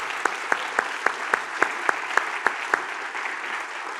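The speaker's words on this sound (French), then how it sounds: "Une grande main d'applaudissements." Audience applause at a UX conference session thanking lab assistants: a few sharp, close claps fall in an even beat over a softer bed of crowd clapping, and the crisp claps drop away toward the end.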